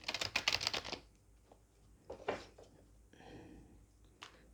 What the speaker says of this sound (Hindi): चलिए थोड़ा अच्छे से शफल कर लेते हैं